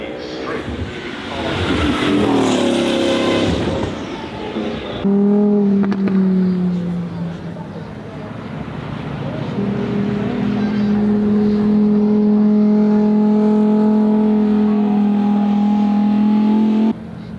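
Bugatti W16 engines rev and accelerate, a loud, sustained howl that climbs in pitch, cuts off, then rebuilds into a long steady drone, with a voice briefly heard early on.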